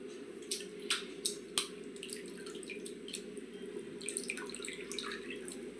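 Tamarind and tomato liquid for pepper rasam being dissolved and strained, giving soft, scattered drips and trickles over a quiet background hum, with a few sharper splashes early on.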